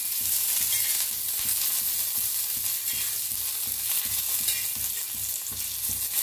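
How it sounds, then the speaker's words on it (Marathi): Green chilies, stems left on, frying in hot oil and being stirred, giving a loud, steady crackling sizzle with repeated scraping strokes of the spoon, close up with no voices. "बघा तेलात असं हलवून घ्यायच्या"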